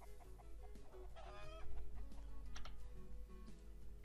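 Chickens cluck in the Roblox Skyblock game, the soft fowl calls repeating over a steady layer of game music and background tones, with no talk.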